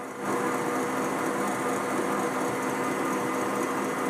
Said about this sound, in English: you can hear that the KitchenAid is kind of slowed down a little bit, trying to push itself through this through these egg whites